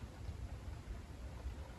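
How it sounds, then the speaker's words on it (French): Steady rain drums on a camper van parked in the south of France, a dense, even patter with a low rumbling undertone, continuous throughout and with no one speaking. "Toujours dans le sud et il pleut."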